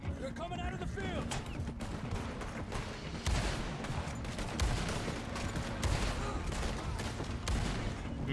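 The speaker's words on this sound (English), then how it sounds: "Holy moly, that is a loud gun." A loud gun in Red Dead Redemption 2 fires repeatedly in sharp, irregular bursts amid a busy shootout mix, with voices talking at times.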